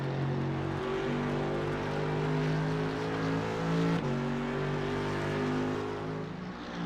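Mercedes-AMG GT3 race car engine in iRacing at Monza, pulling hard under acceleration with a steady, loud, close drone; a brief gear shift near the middle, then it keeps climbing, with no voices.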